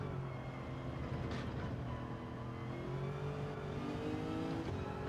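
Race car engine of a Lexus RC F GT3 in the Gran Turismo 7 video game, a steady, fairly quiet drone with rising and shifting engine tones as the car accelerates through gears.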